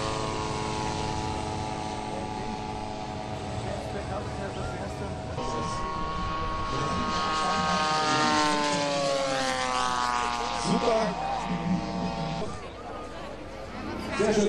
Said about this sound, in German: die Motoren laufen von den Flugzeugen einmal mit einem von ca. 17 Kilogramm.